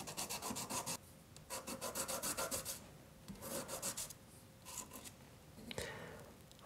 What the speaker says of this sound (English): I'm just rubbing this on a buff stick to make sure they're flat